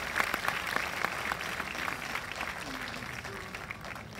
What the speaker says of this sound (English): a good round of applause for